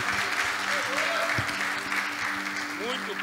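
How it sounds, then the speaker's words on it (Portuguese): A church congregation applauding in a Sunday service, brisk, dense clapping from many people with a faint voice and some tonal hum underneath. "Você pode aplaudir ao Senhor por isso, meu irmão?"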